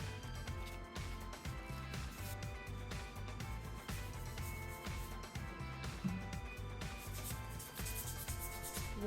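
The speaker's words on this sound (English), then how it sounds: "going over them with a little bit of sandpaper just helps them pop back out." Sandpaper rubs by hand over distressed wooden furniture during a makeover, a continuous scratchy rasping that runs under steady background music.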